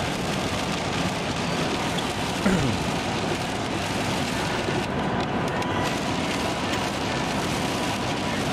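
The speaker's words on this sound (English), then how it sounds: "It's raining pretty severely," Heavy rain pelts a car window in a steady, dense patter, close and continuous, with the low hum of the vehicle underneath and no talking.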